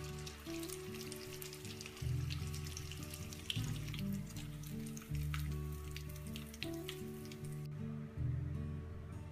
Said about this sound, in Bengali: শিমগুলো প্রায় ভাজি হয়ে গিয়েছে, এখন আমরা শিমগুলো তুলে ফেলবো।